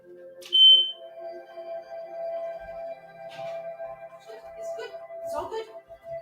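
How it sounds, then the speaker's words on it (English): A household smoke detector gives one short, high chirp near the start, then faint indoor rustling and a person's speech follow. "My fire alarm just chirped and my dog's scared of it, so I have to go and make it chirp one more time so it stops."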